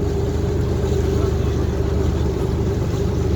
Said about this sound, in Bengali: আরেকটা নৌকা ঘুরে চলে আসতেছে।